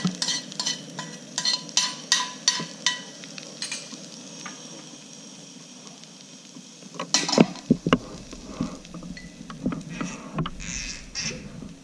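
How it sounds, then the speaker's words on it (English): Pepper steak and its ingredients pushed to the back of a hot frying pan, with a steady hiss of frying and a run of quick scraping, clattering strokes, then louder clanks and sizzling after a brief lull. "bring your ingredients with the steak to the back of the pan."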